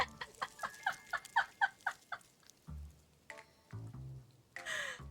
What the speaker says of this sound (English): A crow's cry.